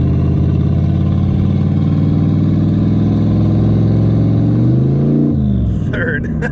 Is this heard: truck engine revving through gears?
yes